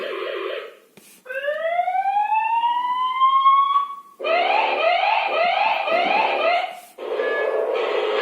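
A Xiaomi smart sensor gateway plays loud alarm tones: a sweeping, rising siren-like wail, then a rapid pulsing warble, then another steady alert tone. The tones follow one another with short breaks and no speech.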